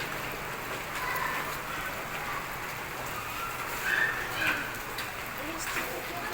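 Steady rain falling during a storm in Gazipur near a building under construction, a dense continuous patter on surfaces with a few louder splashes, someone talking over it.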